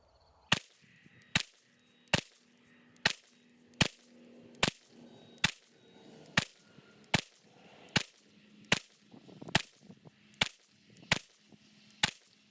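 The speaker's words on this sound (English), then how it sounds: "let's put 15 rounds into our bull at 25 yards" Fifteen single shots ring out from an HK VP9 handgun, fired at a bullseye target 25 yards away at a steady pace of about one shot every 0.8 seconds, each crack sharp and distinct against a quiet background.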